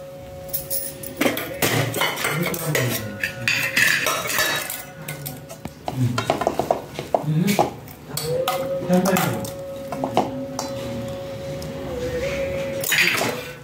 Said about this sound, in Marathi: साहेबांसाठी टिफिन भरायचं. मी असं चमचा वगैरे सगळं ठेवायचं.